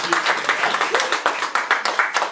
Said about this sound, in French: Acclamons bien, acclamons la parole du Seigneur.